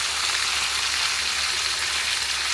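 Onions fry in a pan, giving a steady, bright sizzle that stays even and close throughout, with no talking.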